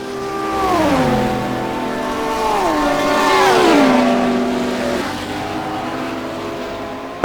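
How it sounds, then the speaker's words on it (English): A Ferrari and a Lamborghini race car roar side by side down the straight at Bathurst, their loud engines running close together with pitches that sweep downward through repeated shifts. "And it is side by side as they come down the straight towards the chase."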